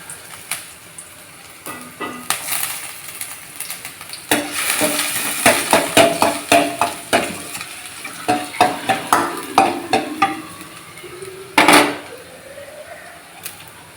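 Finely chopped ginger fries in hot oil in a pan, a steady sizzle broken by a run of sharp stirring scrapes and clinks of a utensil against the metal, with one louder clatter near the end.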